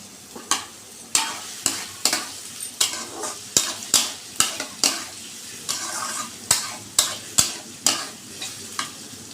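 Potatoes being stirred into frying onions in a pan, with repeated sharp scraping strokes against the metal over a steady sizzle, close and clear, no voices.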